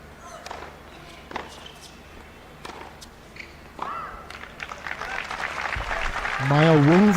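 Crowd at a women's WTA 125 tennis semi-final in Mumbai breaks into applause that swells toward the end, after scattered claps, footsteps and murmured talk in the stands.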